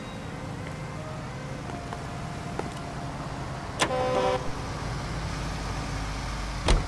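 Car driving through city streets in the L.A. Noire video game, a steady low engine and road rumble throughout, with a short honk-like tone partway through and a sharp clunk near the end.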